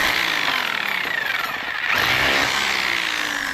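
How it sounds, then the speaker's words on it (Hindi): A power drill bores a hole through a wall for the copper pipe of a Daikin 1.5 ton split AC installation, a loud, steady grinding whine that dips briefly midway before carrying on. "कॉपर पाइप निकालने के लिए जो छेद कर रहे हैं लेफ्ट साइड में ही कर रहे हैं"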